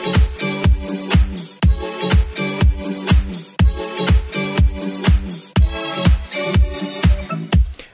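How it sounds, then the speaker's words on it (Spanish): A sampled song plays over a steady, punchy drum loop with a ride cymbal, kick hits falling in a regular rhythm, sustained melodic tones above, and loud throughout with no talking. "entonces ya el sampleo con la base de batería suena así."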